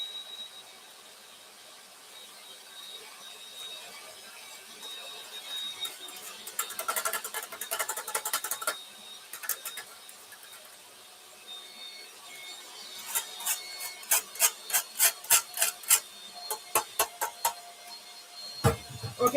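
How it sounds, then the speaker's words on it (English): Butter and sugar being creamed for a Jamaican black cake with an electric mixer in a home kitchen, a faint steady whir in the background that turns into rhythmic scraping, rattling bursts toward the end. "He's the one doing the butter and the sugar for me right now."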